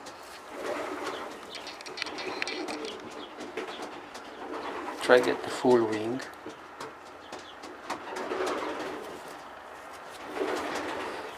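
Young marathon strain pigeons coo softly and repeatedly around a loft, a brief louder flutter midway, with people talking over them throughout.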